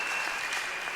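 Audience applause filling a room at a church gathering, steady, dense clapping throughout the brief moment with no pauses.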